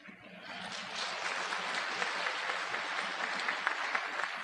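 Audience applause at a community gathering, clapping that builds quickly from a quiet start and holds as a full, even wash.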